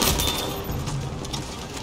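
A rapid burst of Battlefield V gunfire, several quick shots close together, loud and punchy.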